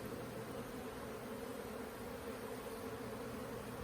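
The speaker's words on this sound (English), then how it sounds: "There's a little cluster of bees over here on this side." Honey bees clustered inside a hive box during rehiving of a caught swarm, a continuous low steady buzz heard up close and fairly faint, with no voices.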